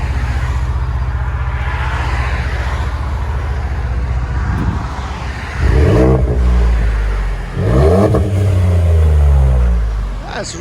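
A Ford F-150 with an EcoBoost turbo V6 and an aftermarket exhaust idles with a low steady rumble, then revs hard twice with deep, loud bursts near the microphone.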